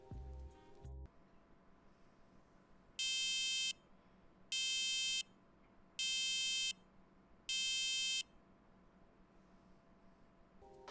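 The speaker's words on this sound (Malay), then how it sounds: "output buzzer ni dia akan mengeluarkan sesebuah bunyi" Four sustained electronic buzzer tones from a SAM Labs maker kit buzzer, each about a second long, sound at an even rhythm over a low background hum, loud and close.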